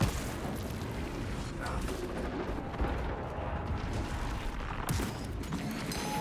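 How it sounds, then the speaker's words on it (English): A frag grenade goes off in a Warhammer 40k video game amid a constant dense roar of battle noise, with a sharper burst standing out near the end. "Frag grenade deployed."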